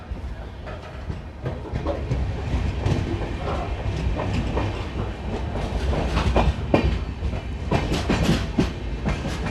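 The Bidar–Machilipatnam Express rolls by loudly and close, a dense continuous rumble with rhythmic clickety-clack of wheels over rail joints throughout.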